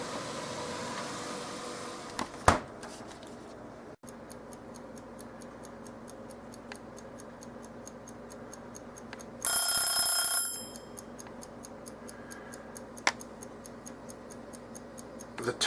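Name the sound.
timer ticking while counting down ten minutes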